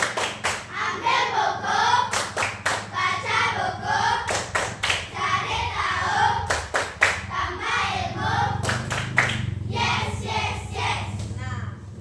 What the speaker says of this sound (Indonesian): Tepuk literasi.